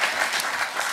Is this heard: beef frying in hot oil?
no